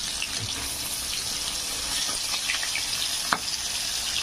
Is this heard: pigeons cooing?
no